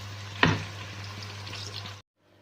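Chopped onions frying in hot oil in a pan for white chicken karahi, a steady close sizzle with one sharp clatter near the start, then cutting off abruptly.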